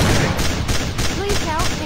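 Sustained burst of rapid gunfire in the mobile shooter game Fps Commando, loud and continuous with brief breaks, with shouting voices over the shots.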